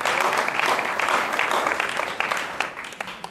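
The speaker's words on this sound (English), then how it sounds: "Please clap for Jesus for that wonderful advice." A church congregation claps during a service, a brief, lively round of many hands applauding together that fades slightly toward the end.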